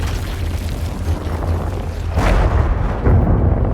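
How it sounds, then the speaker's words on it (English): A plasma cannon blast shatters an energy mass inside a laboratory, a loud, deep rumbling boom that swells into a second heavy burst before cutting off abruptly. "The explosion shattered the energy mass"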